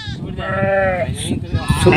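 Several wavering bleats from pregnant sheep close by on a farm, mixed with a person talking, with a few higher cries toward the end.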